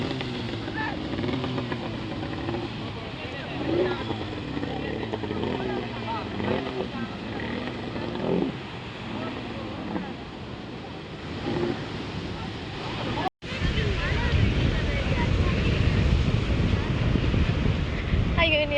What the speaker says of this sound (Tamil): இப்போ போட் வந்து கடலுக்கு போய் கொண்டிருக்குது